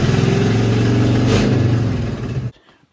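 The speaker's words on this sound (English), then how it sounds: "this thing is turnkey, fires up. It is cammed, so it idles a little high." A cammed Honda K24 engine swapped into a Mitsubishi Starion idles high, a loud, steady, close throb that runs for about two and a half seconds before cutting off abruptly into near silence.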